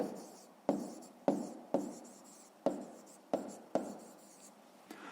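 Pen writing by hand on paper while working a fifth-grade math exercise, a quiet series of about eight short scratching strokes, each starting with a sharp tap and fading, in a still room.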